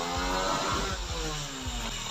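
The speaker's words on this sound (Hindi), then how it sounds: "तो आप देख सकते हैं कि बाइक बिल्कुल स्टार्ट हो चुका है।" A Honda 70cc motorcycle with a mini carburettor idles close by just after starting, a steady low putter with the engine's rhythm pulsing faintly and no one talking.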